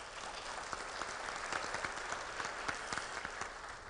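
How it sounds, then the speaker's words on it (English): An audience at a fraternity regional public program gives a round of applause for panelists, a steady crowd clapping with sharp individual claps popping out, sustained for the whole stretch. "you all can give them a round of applause"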